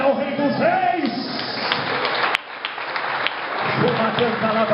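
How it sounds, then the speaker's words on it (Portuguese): Congregation at a church campaign service claps and applauds in worship, a dense steady wash of hands filling the room while voices and music carry on over it. "Quem pode levantar a mão, adorar e aplaudir ao Rei dos Reis?"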